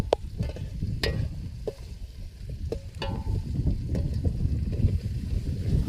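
Onions cooking in a pan at an outdoor campsite, a steady rough sizzle with a background rush, broken by scattered sharp clicks and scrapes of a utensil against the pan.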